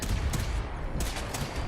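Gunfire in the video game Fallout 4, a dense rattling burst of shots running nearly the whole moment, loud and close with a few sharper cracks standing out.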